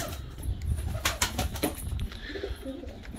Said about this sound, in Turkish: Uçan güvercinlerimizi bir türlü çoğaltamıyoruz.